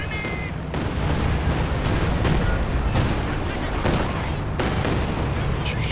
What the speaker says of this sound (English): Barrage coming in.